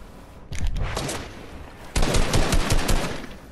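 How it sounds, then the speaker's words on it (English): Video game gunfire: rapid automatic bursts, one short burst then a longer louder volley, close and sharp. "I'm being shot from everywhere."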